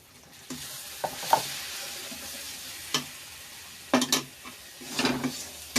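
Masala with turmeric and salt, cooked for spinach chicken, sizzles quietly in a pan while a spatula stirs and scrapes it. Several sharp metallic knocks and scrapes break through at irregular intervals. No one speaks.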